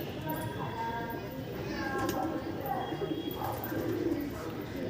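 Pigeons coo softly in a loft, with low repeated calls and some faint chirps and shuffling, while people talk over them throughout.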